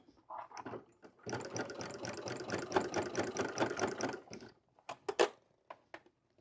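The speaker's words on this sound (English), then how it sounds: "Go across the way and start stitching again" A sewing machine stitching a DIY fabric bag, a near rapid mechanical whir running about three seconds between short bursts and pauses, then a few quick stitches at the end.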